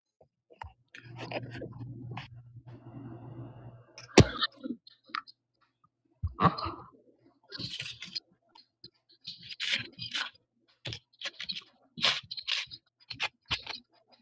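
Playing cards are riffled in a long buzzing run, then a brisk burst, followed by scattered close clicks, snaps and scrapes as the deck is handled, with no talking.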